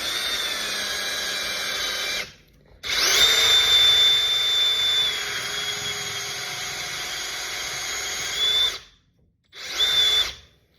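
A cordless hand-held power drill bores into a Storm Absolute bowling ball, a loud steady high-pitched whine that runs for several seconds, stops briefly, then returns in two shorter bursts.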